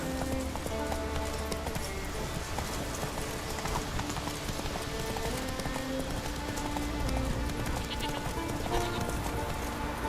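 Roach the horse gallops at a steady fast pace in The Witcher 3, hooves drumming in a continuous loud clip-clop rhythm amid wind and ambient game sound for the whole stretch.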